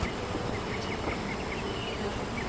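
Honeybees buzzing steadily around an open hive during an end-of-June inspection, a dense, continuous drone close at hand with a few individual bees zipping past, no voices.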